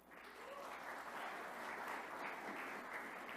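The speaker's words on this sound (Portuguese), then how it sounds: "Salve de palmas" Steady applause from an audience for a departing pastor, broad even clapping sustained throughout at close range with no pause.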